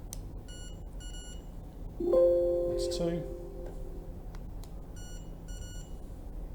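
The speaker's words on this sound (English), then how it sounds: "It beeps at you if you've taken a good point." An AT960-MR T-probe beeps as measurement points are taken, giving short bursts of rapid, thin, high-pitched beeps at the start and again near the end, with someone briefly speaking in between.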